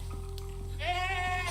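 A goat in the survival video game Icarus bleats once, a clear, loud, wavering call over a steady low hum of game ambience, with no voices over it.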